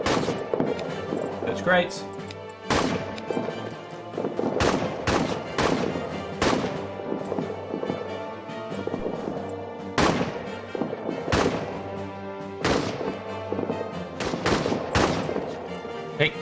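Gunfire in a WWI trench video game: loud single shots crack out at irregular intervals over a low, steady battlefield drone, with someone talking briefly.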